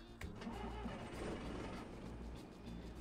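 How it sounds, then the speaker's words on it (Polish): A bus engine starts up in the OMSI 2 driving simulator, a loud, steady mechanical rumble that fills the whole stretch with no talk over it. "No i teraz możemy sobie nacisnąć M, czyli motor i odpalamy silnik."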